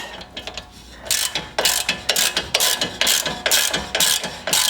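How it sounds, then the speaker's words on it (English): Hand ratchet tightening the tie rod on a Porsche Cayman 987 during a tie rod installation: a quiet start, then a steady series of close, sharp clicking bursts in an even rhythm, with no talking. "now we can go and tighten her up by hand."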